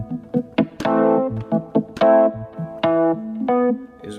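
An electric piano preset played on a DIY Artiphon-style instrument gives a sequence of separate velocity-sensitive notes and chords with bell-like attacks, each decaying quickly, played clearly and fairly loudly.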